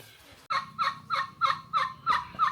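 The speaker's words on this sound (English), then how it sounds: "Here's a family of turkeys" A family of turkeys in the Bolivian Amazon pampas gobbles in about eight loud, rhythmic bursts close by.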